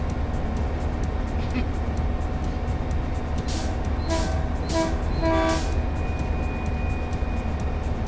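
Train in the OMSI 2 game blowing a series of short, clear horn blasts over a constant rumbling rail drone, the blasts sounding in a quick rhythmic cluster midway through.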